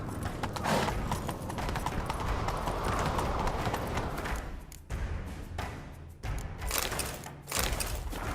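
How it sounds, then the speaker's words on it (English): Rapid hoofbeats of a galloping horse in The Witcher 3 pound steadily, with occasional thuds and bursts of action noise layered over the rhythm. "Grab a horse, we'll chase him down."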